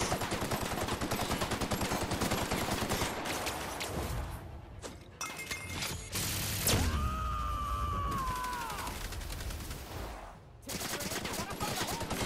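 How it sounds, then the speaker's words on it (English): Bursts of rapid gunfire at an enemy in the sci-fi shooter game The Outer Worlds, loud and continuous for several seconds, then a few scattered shots and whirring electronic weapon tones. "this thing is eating bullets, bro"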